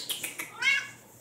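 A house cat named Max gives a single drawn-out meow, up close, after a few soft clicks and rustles, with no talk over it.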